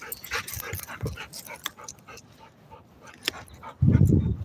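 A small dog whimpers and yips softly in a few brief, high cries, followed by a louder burst of close rustling or panting near the end, with no clear talk.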